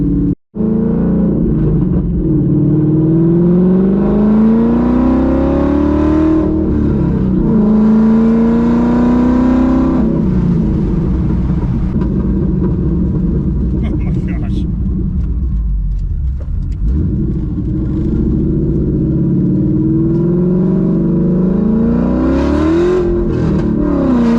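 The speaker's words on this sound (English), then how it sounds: "this is our last drive with wide open exhaust, so let's enjoy this while we can" A loud Coyote V8 engine in an SVT Cobra Mustang with open exhaust roars and revs while driving, pitch climbing and falling through gear changes, with a deep burbling rumble throughout.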